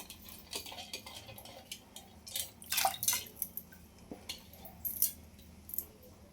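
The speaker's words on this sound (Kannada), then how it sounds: "ನಾನು ಬೇಳೆ ತೊಗೊಂಡಿದ್ದೀನಿ, ತೊಗರಿ ಬೇಳೆ. ಇದನ್ನು ತೊಳೆದ್ಬಿಟ್ಟು ಹಾಕ್ತೀನಿ." Toor dal is swished and rinsed in water in a metal vessel, with close splashes, drips and light clinks of metal and grains in an irregular rhythm and no talking.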